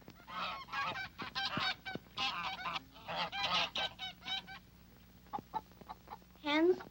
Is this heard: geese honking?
yes